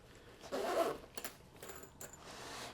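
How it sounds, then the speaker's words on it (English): A waterproof SBS zipper on the main pocket of a modular sling bag is pulled open in one short, close, soft rasp, followed by faint handling clicks in an otherwise quiet setting. "on the main pocket, you also have a waterproof SBS zipper. If you open this up"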